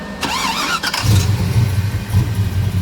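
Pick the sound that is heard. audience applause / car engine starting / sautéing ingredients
car engine starting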